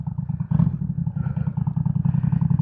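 A Kawasaki Drifter VN 800 cruiser motorcycle, built as an Indian Chief tribute bike, idles nearby with a loud, steady low engine pulse and a few light blips of throttle, with some faint clatter but no talk.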